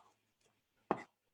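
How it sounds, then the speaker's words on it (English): A knife chops through onions on a cutting board during a meatball and tomato sauce cooking demo, heard as one short, close chop in otherwise quiet surroundings. "chopping our onions,"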